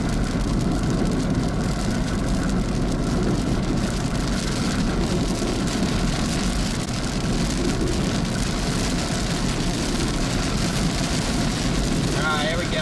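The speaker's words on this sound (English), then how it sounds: "In the rain we go." Steady rain drums on a moving vehicle while driving through a Kansas tornado outbreak chase, a dense, continuous wash of droplets over a low road and engine rumble for the whole stretch.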